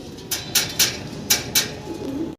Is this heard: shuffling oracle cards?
no